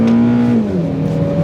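A stock K24-engined Honda Accord Euro with 243,000 km revs under acceleration, a close, loud engine tone climbing then dropping as it shifts, heard alone.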